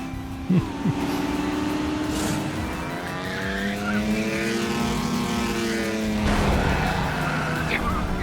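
Race cars speed around a circuit in Trails Through Daybreak II, with engines droning loudly and continuously and pitches rising and falling as the cars pass, plus brief tire squeals; no one talks.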